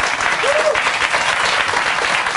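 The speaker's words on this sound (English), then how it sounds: "The audience applauds that." Audience applause for a line in a Mitt Romney speech, a dense steady clatter of clapping throughout, close and fairly loud.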